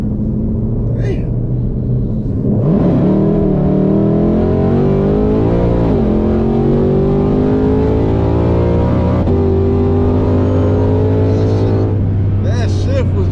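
A Ford GT500 fitted with a clutched blower pulley revs hard and pulls through the gears, its loud engine note climbing and dropping at each shift, with people exclaiming over it.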